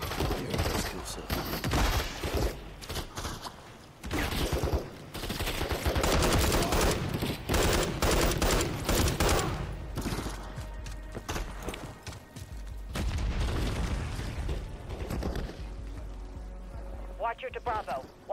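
Dense Call of Duty gunfire in a heavily armored firefight, sustained automatic bursts and rapid shots filling the scene, loud and near, with voices talking over the battle.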